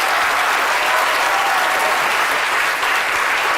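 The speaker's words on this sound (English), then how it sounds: "I think a big round of applause there for Mark." A live audience at a talk breaks into a big round of applause, with dense, steady clapping that fills the space from start to finish and has no voices over it.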